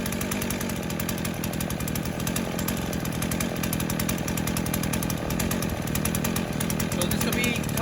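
A stock Husqvarna 50 chainsaw with no muffler mod and a semi-sharp chain runs steadily through wood, a loud, close, continuous buzzing engine roar throughout.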